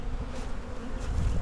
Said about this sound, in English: I'm just going to dump the bees on the ground